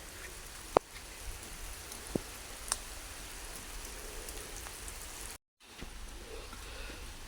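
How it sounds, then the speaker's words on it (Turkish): Steady rain falling outdoors at night, a soft continuous hiss with a few sharp drops ticking nearby, constant and moderately faint with a brief silent gap. "Yağmur yağıyor."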